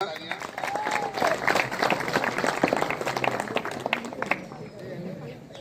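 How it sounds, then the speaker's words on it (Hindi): An audience of schoolchildren and teachers applauds at a legal-awareness rally and marathon event, with sustained, fairly close clapping mixed with crowd voices and chatter for several seconds. "तालियां।"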